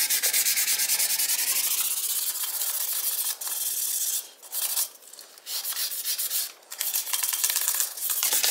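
Motorcycle restoration work on a 1978 Kawasaki KZ1000 Z1R: 600 grit sandpaper rubbing out scratches in steady, close, raspy back-and-forth strokes, with a few short pauses between passes.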